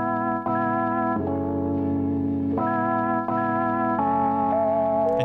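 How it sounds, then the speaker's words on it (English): A chopped keys loop sample plays sustained electric-piano chords that switch abruptly every second or so, with smooth, echoing tones and no voices. "I found this keys loop and chopped it up and turned it into this."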